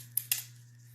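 Two quick crisp snips of scissors cutting a small piece of material for a coffee can craft, sharp and close against a steady low electrical hum.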